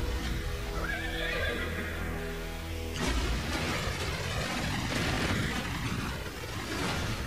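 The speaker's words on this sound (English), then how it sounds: "The horse seems untamable, but the child breaks him." A wild, untamed horse neighs loudly in a long, shrill whinny. A sudden heavy burst of hoofbeats and rushing noise follows, with the clatter continuing afterward.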